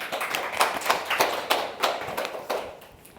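An audience at a university graduate lecture claps to welcome a speaker, a fairly sparse patter of claps with a few stronger hits, nearby and without talk.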